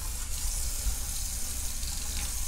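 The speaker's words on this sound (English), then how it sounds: "I'm going to run water at the sink, hot and cold." A kitchen sink faucet runs hot and cold water during a home inspection, a steady, close hiss of gushing water pouring into the basin without a break.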